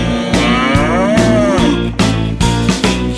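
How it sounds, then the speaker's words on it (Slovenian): A cow's drawn-out moo sounds through a loud, rhythmic children's song with bouncy beats, the lowing partly blended into the music. "muka na ves glas"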